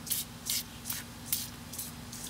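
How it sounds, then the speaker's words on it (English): Gunk engine cleaner sprays onto a Ford Focus car engine in about six short hissing bursts spaced roughly half a second apart, close, over a low steady hum. "So I'm spraying it with the new stuff."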